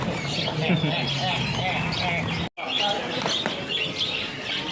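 Canaries sing at a bird market kiosk, a dense, continuous chorus of bright chirps and trills, fairly loud and close, with voices talking underneath and a brief cut near the middle.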